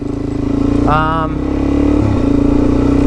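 Motorcycle engine on an adventure ride pulling away in fourth or fifth gear, a loud, close, steady drone that dips slightly partway through, with a brief voice heard over it.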